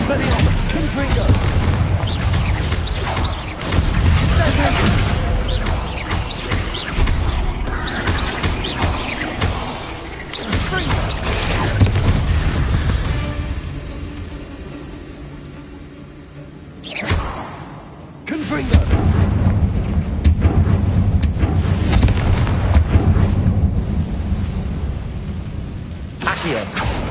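A Confringo explosion spell is cast in the video game Hogwarts Legacy, producing heavy booming blasts and whooshes within loud, dense game sound, with a voice talking at times.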